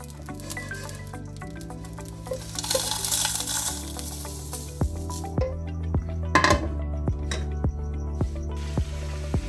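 Achar gosht masala roasts in a pan with soft sizzling and scattered ticks and taps as spices shift, set against a steady tonal background, without talk.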